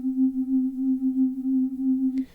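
A pure synthesizer sine tone thickened with added unison voices holds a steady, slightly wavering pitch for about two seconds, then cuts off with a brief click.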